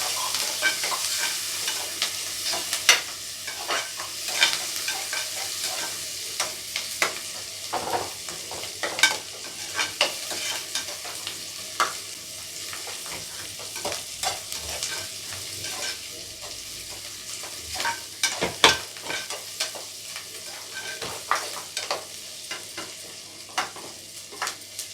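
Ginger garlic paste fries in a pan for green peas gravy, a steady broadband sizzle with frequent spoon-scraping clicks and stirring knocks throughout, fairly close and with no talking.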